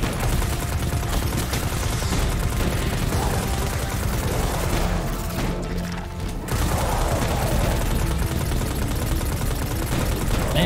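Sustained automatic gunfire from the Destiny 2 Beyond Light shooter rattles loud and dense, with a brief dip in the middle before the barrage resumes at full intensity.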